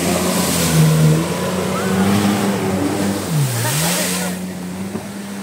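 A parasailing motorboat on open water, its engine droning steadily with a brief dip in pitch partway through, water and wind noise beneath, fairly close and loud throughout.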